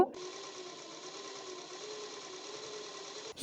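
A sewing machine stitching piping along the neck of a blouse gives a steady, even mechanical whir throughout, close and moderately quiet, ending with a brief knock.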